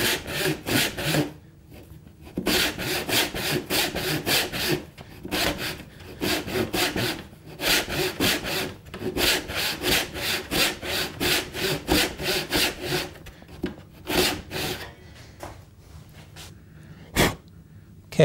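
Hand saw cuts a tapered sliding dovetail in wood, with steady rhythmic back-and-forth strokes, close and clear, pausing briefly a few times before resuming, ending with a couple of isolated strokes.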